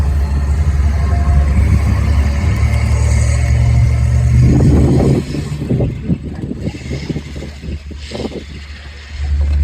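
A military vehicle driving out at a museum show in Oshawa, with a heavy low engine rumble that grows and then gives way to uneven, nearer clattering mechanical bursts, loud and outdoors.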